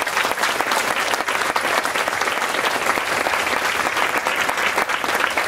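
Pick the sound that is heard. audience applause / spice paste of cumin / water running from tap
audience applause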